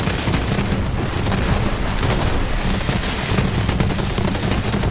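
Iron Bear mech firing in Borderlands 3, a loud, relentless stream of rapid gunfire mixed with booming explosions throughout.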